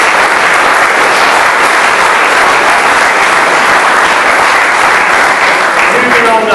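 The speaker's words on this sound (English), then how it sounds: "give him a round of applause" A football club fans forum crowd gives a manager a loud, dense round of applause that stays steady and unbroken throughout, close and full in a room, with faint voices mixed in.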